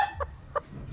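A bantam chicken gives two short, clear clucks about a third of a second apart, fairly close and fairly quiet against a low background hum.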